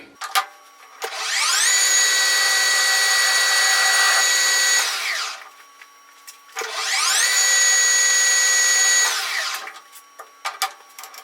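A power tool beveling a wooden tap handle runs in two sustained whining bursts of several seconds each, loud and close, with short clicks and handling knocks between and after.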